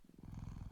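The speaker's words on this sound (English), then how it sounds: "You can hear the little purr." A cat purring in an indie video game: a steady, rhythmic low rumble of quick pulses, close and soft, with no voices over it.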